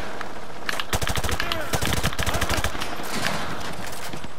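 Automatic gunfire rattles in rapid bursts during a White House mission in Call of Duty: Modern Warfare 2, loud and close for a few seconds before easing into lighter background fire.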